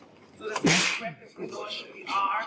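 A single sharp sneeze bursts out near the start, close and loud, followed by people talking.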